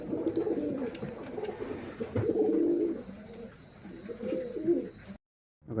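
Girebaaz pigeons coo repeatedly at close range, low throaty rolling calls in several bursts, before the sound cuts to brief silence at the end.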